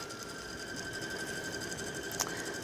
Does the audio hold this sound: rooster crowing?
no